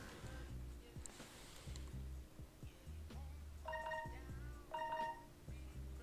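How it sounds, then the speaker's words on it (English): Two short, bright multi-tone notification pings from a phone, about a second apart, sounding over quieter rhythmic low thumps and electronic effects in the background. "Why is my phone pinging?"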